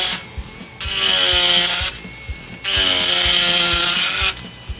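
A tungsten carbide power carving tool cutting into wood in two long buzzing bursts separated by brief pauses, with light rhythmic tapping underneath.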